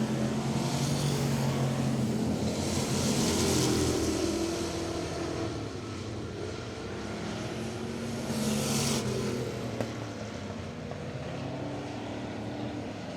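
Street stock race cars circle Travelers Rest Speedway, producing a loud, continuous roar that swells as the pack passes and eases slightly as it moves off.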